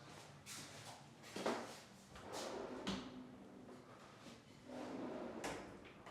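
A drawer in a professionally outfitted walk-in closet with chrome rails and shelving slides open and shut several times, with soft rolling runs and light thumps at each stop, close by with no talk.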